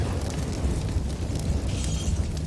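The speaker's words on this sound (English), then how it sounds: "Throwing a grenade." A video game grenade explosion heard as a dense, rumbling blast with a heavy low roar that holds at a steady loud level, with no talk over it.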